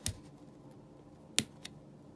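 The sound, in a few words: nail scissors cutting a hole in plush fabric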